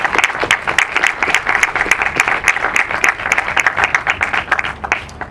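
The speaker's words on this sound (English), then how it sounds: "So please, let's just give him a round of applause." An outdoor crowd at a Black veteran historical corridor unveiling in Oakland, California claps loudly and steadily, dense applause holding for several seconds before easing off at the end.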